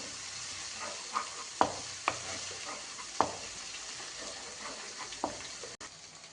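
Ginger garlic paste frying in a pan for chicken curry, stirred with a few scattered scraping clicks over a steady, soft sizzle.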